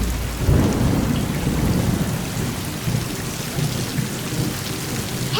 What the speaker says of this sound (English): thunder and heavy rain.